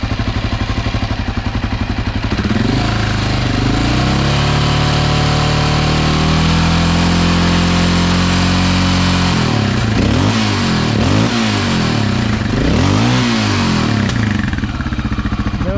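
A Honda XR650L single-cylinder motorcycle engine runs steadily and loud throughout, idling with a rough thumping pulse, then rising and falling through several revs in the second half.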